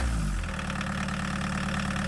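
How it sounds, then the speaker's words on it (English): A Chevy S10 pickup with a swapped-in diesel engine catches and settles into a steady idle, a low rough rumble with a regular knocking beat, close and loud with no talk. "cut to the engine starting"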